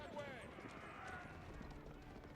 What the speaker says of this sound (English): Here comes the horse archers and scouts once again.